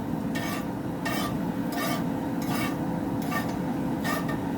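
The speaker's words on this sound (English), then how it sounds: "Metal and cast iron skillet. Not good." A metal utensil scrapes and stirs inside a cast iron skillet in a rhythmic series of about six harsh rasping strokes, close up over a steady background hum.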